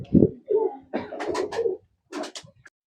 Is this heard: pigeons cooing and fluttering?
yes